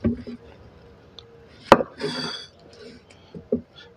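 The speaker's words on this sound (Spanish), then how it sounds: "Vamos a partir nuestras calabacitas en cuadritos" A knife cuts zucchini into cubes on a cutting board, with a few scattered knocks against the wood, one sharp chop standing out, and soft scraping in between.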